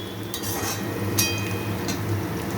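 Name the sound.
onions frying in a pan for chicken curry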